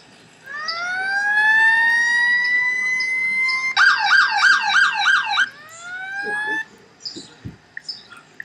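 An emergency vehicle siren in the Roblox video game: a long rising wail, then a rapid warbling yelp, then a falling wail that cuts off, loud and close, followed by a few faint knocks.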